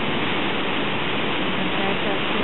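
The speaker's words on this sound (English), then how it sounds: "Here are the falls right here." Tahquamenon Falls waterfall roars as a steady, dense broadband rush of falling water, close and continuous without any break.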